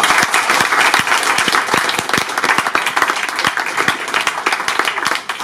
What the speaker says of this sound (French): on les applaudit très fort pour la soirée